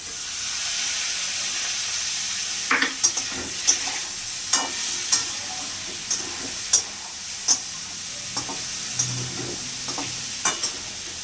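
Tomato dropped into hot oil with leaves for a mixed dal, giving a continuous loud sizzle and hiss with scattered sharp pops and crackles throughout, no voices.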